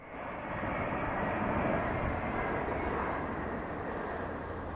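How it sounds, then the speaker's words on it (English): Airplanes roar overhead in an opening day flyover, a loud, broad engine rush that swells and then holds steady with no talk. "Yeah, plane watching is cool, too. They do those flyover"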